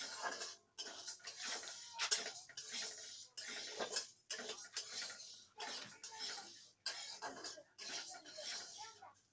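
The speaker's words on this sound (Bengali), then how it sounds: "মুগ ডাল ভাজা হচ্ছে খিচুড়ির জন্য।" Moong dal dry-frying in a pan for khichuri gives a run of scraping, rattling stir strokes in uneven bursts with short pauses between them, fairly close and steady throughout.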